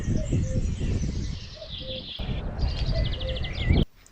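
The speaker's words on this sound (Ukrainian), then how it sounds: "Зозулька кує." A common cuckoo calls repeatedly at a rural Ukrainian homestead, its two-note coos coming at moderate distance over faint outdoor background noise, with other birds chirping.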